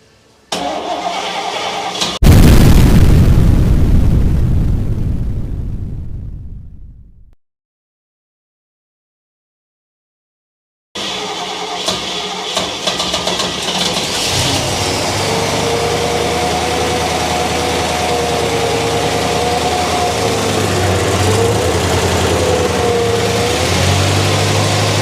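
A freshly rebuilt big block Chevelle V8, a mild build originally rated at 325 horsepower, cranks and fires quickly, revs loudly, then cuts out briefly before settling into a steady, rumbling idle, close and loud with no talk.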